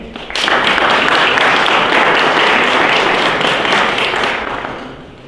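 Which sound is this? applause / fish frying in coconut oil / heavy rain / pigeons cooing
applause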